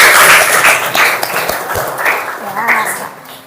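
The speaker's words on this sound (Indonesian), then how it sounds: "mari kita tepuk tangan untuk kita semuanya" Applause from teachers at a training session, a loud burst of clapping that tapers off over a few seconds, with some voices and murmurs underneath.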